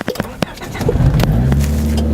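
A 1991 Honda Accord with a manual clutch starts: a brief starter crank followed by the engine catching and settling into a steady idle rumble, close and fairly loud.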